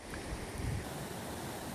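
Swift creek water rushing through a gorge in the New Zealand mountains, a steady broad roar of flow with some wind buffeting the microphone, close and continuous throughout.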